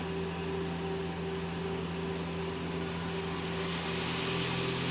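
The spindle of a 2011 Mazak QTN-250II CNC turning center runs at about 1,000 RPM, producing a steady mechanical whir with a constant tonal hum and broadband noise throughout, and no speech.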